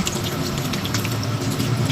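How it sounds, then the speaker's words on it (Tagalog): Water pours steadily into a cooking pot while a liter is added for mami noodle soup with vegetables, a continuous close splashing, gurgling stream at even volume with no voices. "Sabawan po natin siya ng isang litrong tubig."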